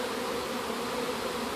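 Honeybees at a Hex Plex Pagoda Palace beehive make a dense, steady buzz that fills the space, close and loud, with no talking.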